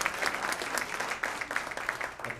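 An audience at a South Carolina Sound Money Committee meeting applauds a speaker, dense steady clapping from a roomful of people, fairly even in level with no voices over it.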